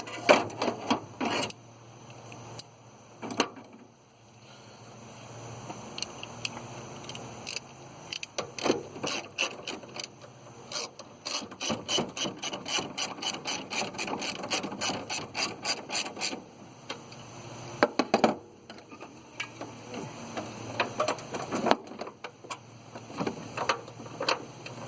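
Ratchet wrench clicking steadily while tightening the center bolts on a mid-1990s Chevrolet or GMC truck radiator, coming in close, rapid bursts of ratcheting with short pauses between strokes.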